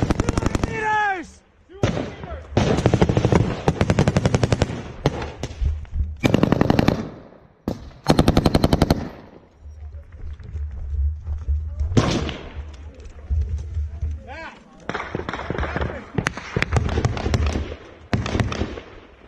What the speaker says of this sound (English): we're shooting from this direction